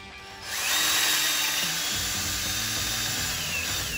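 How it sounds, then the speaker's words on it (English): A power drill bores out pop rivets on a boat's bung housing, spinning up after a short pause into a loud, continuous high whine that holds steady with slight changes in pitch as it bites into the metal. "We've drilled out the 4 pop rivets."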